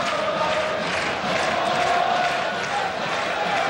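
Galatasaray football stadium crowd during a 1994 Champions League match against Manchester United, a dense continuous roar of chanting fans that fills the space without pause.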